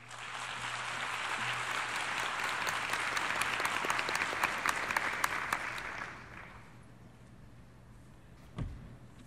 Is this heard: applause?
yes